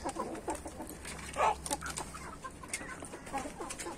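Chickens on a farm cluck and chatter close by. The short, irregular bursts overlap one another over a low hum, and no one talks.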